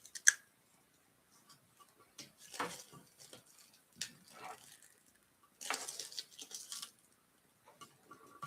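Scissors cutting through dried paper mache on a handmade lamp, a few faint, scattered crunching snips separated by quiet pauses, close but soft.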